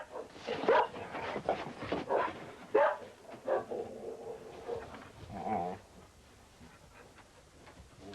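A few dogs bark and whimper in short bursts, moderately close, then the noise fades into quiet.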